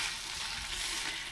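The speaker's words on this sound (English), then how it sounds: "Let me just stir this." Chili and rice are stirred in a pot on a campsite hob, producing a short, steady, soft sizzle with light scraping close by and no voices.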